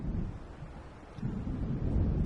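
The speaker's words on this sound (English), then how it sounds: "It seems there's a storm coming." Rumbling approach of a thunderstorm in the video game Alan Wake Remastered, a continuous low roar with wind that swells louder midway and holds steady, no voices.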